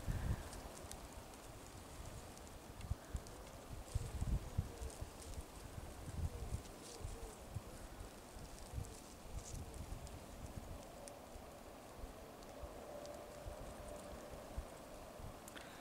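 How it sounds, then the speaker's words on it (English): Wind gusting against a Hilleberg Nallo 4 tent at a camp, a steady rustling roar with fabric flapping and buffeting, a few sharper snaps, and no talking. "You can see here, the wind is grabbing the tent."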